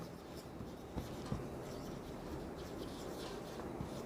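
A pen scratches and scrawls across paper while a geometry problem is worked out, a soft continuous scribbling with a few light taps, quiet and close.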